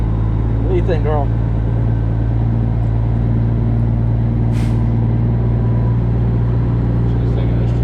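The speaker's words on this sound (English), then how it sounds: "She's thinking this truck is way damn loud right now." A loud, droning truck engine hums steadily while towing an RV, with a brief hiss partway through and a short voice near the start.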